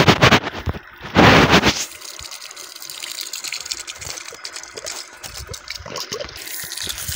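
Water gushes from a household supply line, run by a motor pump, after three days without flow: a steady hissing rush close by, with a louder surge near the start, and no talk.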